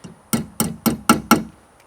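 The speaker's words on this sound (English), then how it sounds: "And tap it down with a hammer." Five sharp hammer taps, evenly spaced, drive part of a convertible top down on a 1995 Ford Mustang GT during top replacement, each strike close and crisp with a short ring.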